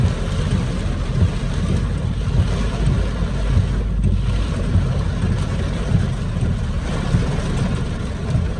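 Heavy rain pours down around a car in Malaysia, a dense, steady roar of drumming water and rushing noise that continues unbroken throughout, with no voices.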